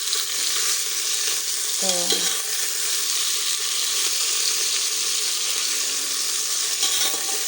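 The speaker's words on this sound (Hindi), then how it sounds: "और अभी ना मैं भिंडी बनाने लगी हूँ।" Bhindi (okra) frying in a pan, a constant loud hiss of sizzling oil filling the scene, with a brief clatter of utensils and a single spoken word.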